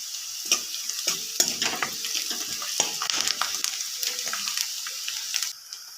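Chili powder and turmeric are stirred and fried in a pan for a Maharashtrian zunka, giving a soft, continuous sizzle broken by scraping clicks of a spoon against the pan, close and quiet with no voices.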